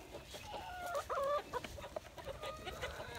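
Yard chickens cluck close by in a loose run of short, throaty calls that rise and fall in bursts, with quieter murmuring between them.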